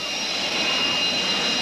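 A jet-powered Chevy Thunder race truck roars with a loud, steady, hissing jet whine as the boost is turned up at a thrill show. The roar is sustained and there is no speech.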